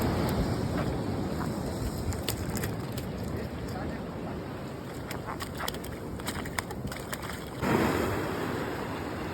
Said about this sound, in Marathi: पाणी तर तुम्ही बघू शकता किती काय पाणी मारतंय ते